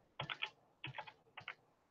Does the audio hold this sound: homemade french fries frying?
no